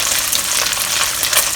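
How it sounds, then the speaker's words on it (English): Tofu pan-frying in a Shogun by Gourmet pan gives a loud, steady, dense sizzle with constant crackling hiss, close up and uninterrupted, with no talking. "So I'm going to pan fry all sides until it's this kind of color, very nice golden brown."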